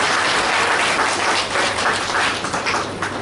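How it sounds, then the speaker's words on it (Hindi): Audience at a health camp gives a round of applause for a participant, loud and dense clapping from many people that holds steady and eases off slightly toward the end. "चलिए, पंकज भाई के लिए एक बार तालियां हो जाए।"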